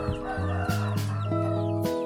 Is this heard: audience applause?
no